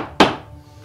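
A single sharp, close knock sounds as a mallet drives a chisel into wood held in a vise, cutting a stop cut. The hit fades quickly.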